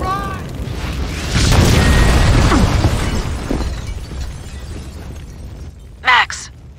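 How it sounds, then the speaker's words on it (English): A building blowing up in Max Payne 2, a heavy rumbling blast swelling and slowly decaying with debris crackle, followed by a short sharp burst near the end; voices are heard briefly over it. "The building's blowing up."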